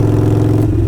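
A Harley-Davidson Sportster 48 fitted with Kinetic 540 Laterals exhaust rumbles loud and close in a brief, steady low throb.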